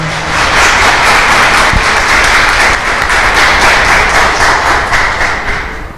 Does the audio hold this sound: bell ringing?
no